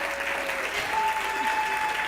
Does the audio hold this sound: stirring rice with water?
no